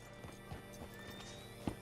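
A horse's hooves in the video game Red Dead Redemption 2 clip-clop at a walking pace, soft and even, with one sharper knock near the end.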